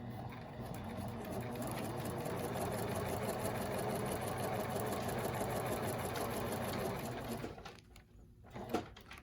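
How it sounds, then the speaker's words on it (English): Sewing machine stitching quilt fabric pieces from one cutting line to the next runs as a close, steady, busy whir for several seconds, then stops, leaving a brief quiet gap with a small clunk. "go to the machine, and I will stitch from cutting line to cutting line"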